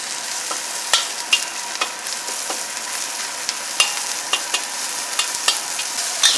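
Sauce for aubergine stir-frying in a wok with little oil, a steady sizzle broken by frequent sharp scraping and clacking strokes of the spatula, close and alone without voices.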